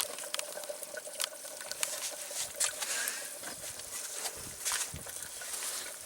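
Ground beef and broth pour through cloth laid over a sieve at an outdoor cooking fire, wet splashing and trickling with soft patters and small clanks, moderately close and uneven.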